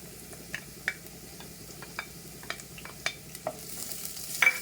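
Onions fried to light golden in a pan get crushed garlic added. A soft, low sizzle runs under scattered stirring clicks and taps, and the sizzle swells brighter near the end. No one talks.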